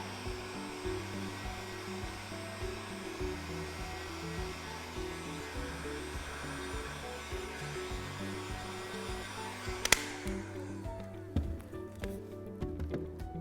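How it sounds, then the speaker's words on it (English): A heat gun held in one spot blows a steady, close airflow hiss over melting wax, continuous throughout with a low motor hum beneath; a sharp click occurs near the end and the hiss continues after it. "Now I'm going to show you what happens if I keep the heat gun in place."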